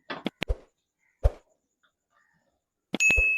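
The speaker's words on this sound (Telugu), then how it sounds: "నీళ్ళు పోసుకున్నాం కాబట్టి నీళ్ళు తెల్లే వరకు మూత పెట్టుకోవాలి." A metal lid set on a pot of water for steaming idli in a home kitchen gives a few sharp clinks and clatters, separated by quiet gaps, then a brief metallic ring and hiss at the end.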